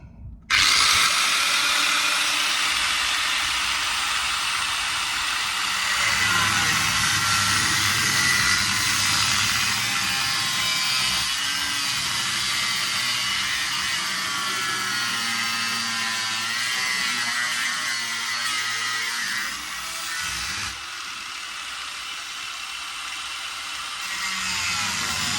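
A power tool whines steadily and loudly up close while cutting into the body of a VW Beetle being built into a pickup, its pitch wavering slightly with load over a long continuous run, with no talking.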